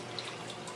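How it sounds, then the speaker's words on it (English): Water flowing through a small homemade hydroponics siphon, heard as a steady, hissing trickle with faint drips throughout a brief moment. "And the siphon just started. The water's really flowing out there now."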